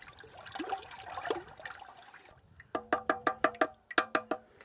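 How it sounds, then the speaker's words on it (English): Elderflower syrup is stirred in a pot to dissolve the sugar: a soft liquid swishing and sloshing, then a quick series of about eight ringing metallic clinks as the spoon knocks the pot. "Give it a good stir just to help the dissolving process."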